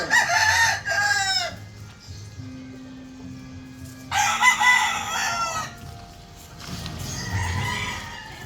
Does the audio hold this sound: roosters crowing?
yes